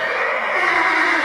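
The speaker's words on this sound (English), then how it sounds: "This one, the horse whinny" A horse whinny sound effect, a single loud, close neigh with a bright, wavering tone held throughout.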